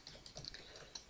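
Light, fast typing on a computer keyboard, a short burst of quiet irregular clicks and taps, close and soft, with no talking.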